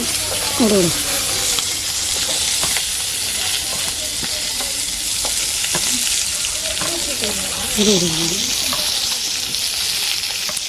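Cumin, garlic, ginger and spices sautéing in a pan, a loud continuous close sizzle with occasional scraping stirs, and a voice speaking briefly over it.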